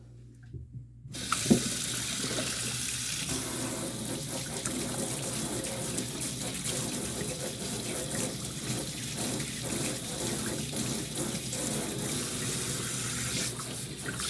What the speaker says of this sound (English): Nice warm water.